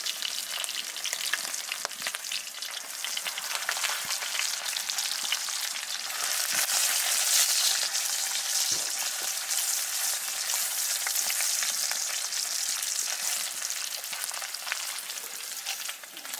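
Bacon frying in a pan on a camping firebox stove makes a steady, dense sizzle and crackle with occasional louder pops, close and continuous throughout, with no talking.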